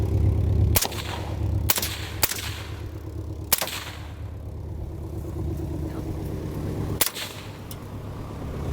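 Five sharp 5.56 rifle shots from a Q Sugar Weasel, fired at a car with full metal jacket rounds, crack out at irregular intervals over a steady low outdoor rumble, loud and close.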